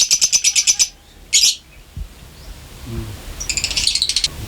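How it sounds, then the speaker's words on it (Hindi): Fischer's lovebirds in a cage at a farm house give rapid runs of sharp, high chirps in two bursts, with a lone call between them, close and fairly loud against faint background noise. "यहाँ पे फिशर के पेयर्स नज़र आ रहे हैं हमें।"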